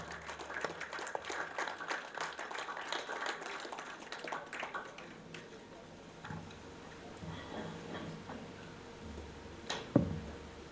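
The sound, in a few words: applause welcoming a guest speaker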